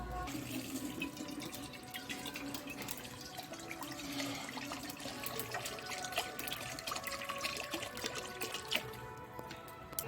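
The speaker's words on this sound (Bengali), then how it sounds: "এবারে কড়া গরম হয়েছে জল ঢেলবো" Water poured into a hot kadai while cooking a Bengali prawn and green jackfruit curry, giving a steady rushing, splashing pour with faint bubbling that runs continuously and close throughout, with no talking.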